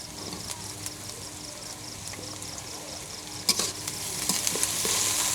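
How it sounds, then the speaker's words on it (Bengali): Sliced onion and green chillies sizzle steadily in oil while being stirred, with scraping strokes of a spatula and a few sharper clacks against the pan, the frying growing slightly louder toward the end. "পেঁয়াজ কাঁচামরিচ তেল আবারও একটু নেড়ে নিচ্ছি।"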